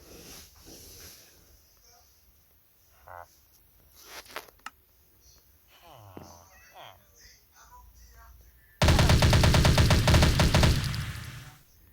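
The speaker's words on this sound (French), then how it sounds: "le petit sniper, vous avez vu comment ça fait, comment le bruit il est puissant. Alors, imaginez le gros sniper." A big sniper rifle in a video game firearms mod fires one loud, booming shot near the end that decays over about two seconds, after quieter scattered game sounds and some talking.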